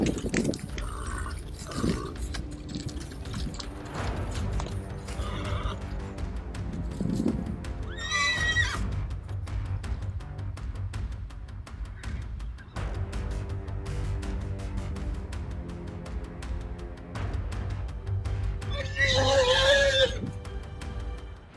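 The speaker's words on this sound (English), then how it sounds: "the horses began to retreat as they bolted into gallops" Several horses whinny loudly in bursts and their hooves clatter while fleeing wolves through a forest, with an ambient music bed running underneath.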